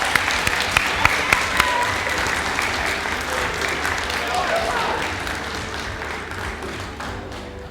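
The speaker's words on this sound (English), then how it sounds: "So a warm round of applause for Hannah McCulley, our varsity" An audience at a poetry event applauds a varsity student competitor, starting with a few sharp claps standing out and settling into steady sustained clapping that slowly eases off.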